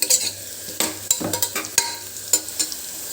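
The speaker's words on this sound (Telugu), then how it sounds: "1 స్పూన్ షాజీరా వేసుకొని కొంచెం ఫ్రై చేసుకుందాం" Whole spices (cloves, cardamom, cinnamon, marathi moggu and shahi jeera) fry in hot oil in a pan for a broad bean biryani, giving a soft sizzle broken by repeated scraping stirs of a spoon, close up.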